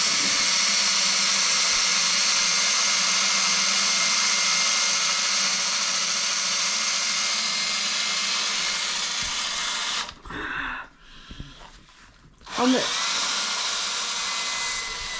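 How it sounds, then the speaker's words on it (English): A drill bores a series of holes while an indoor fireplace is being built, running loud and continuous with a high whine, then cutting out briefly for a couple of seconds before starting again. "So now we are drilling."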